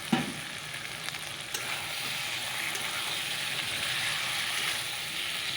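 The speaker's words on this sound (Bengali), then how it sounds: "ছোলাগুলো দিয়ে তারপরে আর একটু কষিয়ে নিই" Chickpeas sizzle and fry with spices in a pan, a steady broadband crackle running evenly throughout with a few faint stirring scrapes near the start, no voices present.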